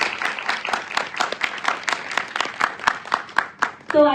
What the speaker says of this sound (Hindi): ये जगह बनी कि नहीं बनी, ये हमें आपकी तालियां बताती है